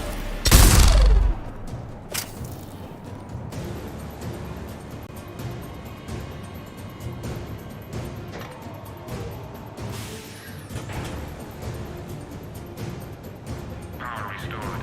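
Anti-aircraft guns firing in the sci-fi game Mass Effect: a heavy booming blast opens, followed by sustained rattling bursts and crashes at moderate distance, with game effects layered over them.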